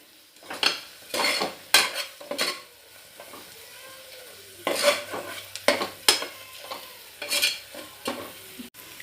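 Garam masala stirred in a hot pan for tomato bath, with bursts of spatula scraping and clinks against the pan separated by quieter sizzling.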